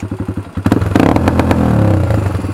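A Honda 300EX quad engine hitting its rev limiter, a loud close stuttering bark that pulses rapidly, then rises into a sustained raspy high-rev buzz.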